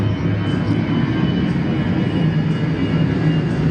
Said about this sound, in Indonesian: Aduh, suara pesawat keras sekali itu.